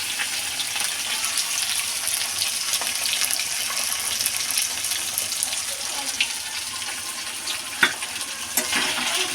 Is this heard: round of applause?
no